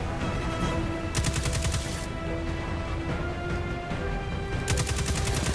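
Sustained rapid gunfire in Destiny 2 as enemy snipers are engaged, dense bursts of automatic shots rattling continuously over a steady game soundtrack, loud and close throughout.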